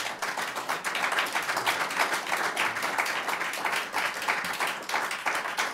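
Studio audience applause after a song: dense, even clapping, fairly quiet, sustained throughout with no voices.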